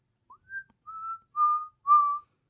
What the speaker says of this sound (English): Keep whistling.